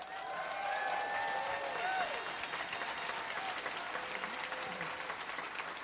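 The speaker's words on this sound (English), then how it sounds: "give these guys a big round of applause" An audience claps steadily in a seminar hall, fairly distant and even, with faint whistles and voices mixed into the applause.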